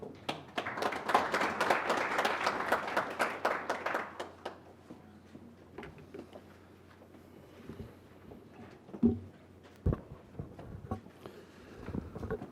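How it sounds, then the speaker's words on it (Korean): At a parliamentary forum on drones, the audience gives a short round of applause for the first presenter, several seconds of close, brisk clapping that fades into scattered taps, footsteps and shuffling in a quiet room. "뜨거운 박수 부탁드립니다."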